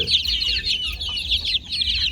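Chickens clucking close by in a coop of naked neck and regular breeds, a dense overlapping chorus of short, scratchy clucks with no talking.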